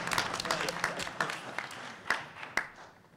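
Audience applause at a university board of trustees meeting: scattered, fairly close hand claps that start dense and loud, then thin out into a few separate sharp claps before fading.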